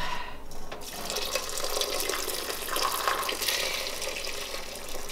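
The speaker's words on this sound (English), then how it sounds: "we're gonna transfer all the stock into the rice" Hot pork bone and vegetable stock poured into rice for Thai rice soup, a steady close splashing gush of liquid lasting several seconds without talk.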